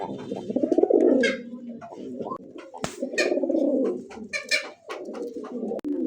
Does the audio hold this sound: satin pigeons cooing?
yes